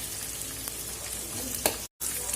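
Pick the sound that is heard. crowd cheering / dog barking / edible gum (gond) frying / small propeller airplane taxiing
edible gum (gond) frying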